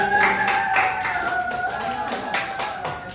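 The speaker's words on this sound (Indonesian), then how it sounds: "Tepuk tangan untuk ya." A class claps together, a short run of sharp, uneven hand claps over a steady tonal background hum, fairly close, with faint voices in the room.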